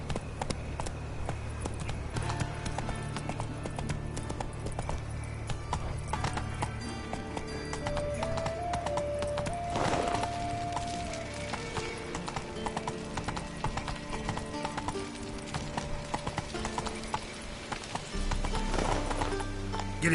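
A horse in The Witcher 3 gallops in a fast, steady hoofbeat rhythm and neighs loudly partway through, set against a continuous game soundscape.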